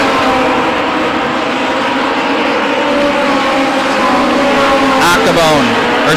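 Late model stock cars race around Lake Erie Speedway's oval, a dense, steady roar of several engines held at speed, with a whine shifting near the end and a commentator talking over it.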